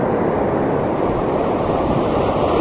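Ocean surf off Canimog Island washes in as a steady, loud rushing roar mixed with wind buffeting the microphone, with no other sounds over it.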